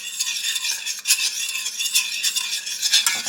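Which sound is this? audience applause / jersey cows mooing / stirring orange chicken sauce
stirring orange chicken sauce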